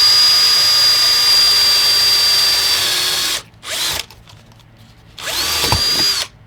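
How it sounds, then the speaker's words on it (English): A power drill bores a pilot hole in a metal guitar pedal enclosure: a loud, high steady whine for about three seconds, a brief blip, then a second sustained burst after a short pause. "Now I've done a pilot hole and I'm going to drill it out."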